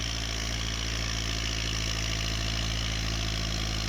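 A tractor engine idles close by, a steady, loud diesel rumble with a rhythmic knocking throb that never changes pace.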